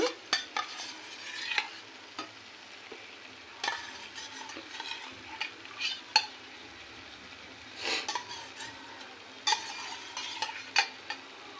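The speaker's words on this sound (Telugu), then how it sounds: "ప్రాన్స్ అన్నీ వేసుకుని బాగా మిక్స్ చేసుకుందాం బాగా కలుపుకోవాలి" Half a kilo of prawns is stirred and mixed in a frying pan for a prawn and drumstick masala curry. Soft sizzling sits under repeated sharp scrapes and clicks of a spoon against the pan, irregular and close, with no speech.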